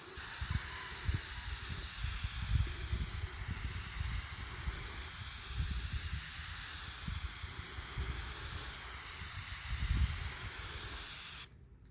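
Water misted from a spray bottle or hose onto a car finished with Turtle Wax Hybrid Solutions, a steady close hiss of spray with soft low thumps and bumps underneath, ending abruptly.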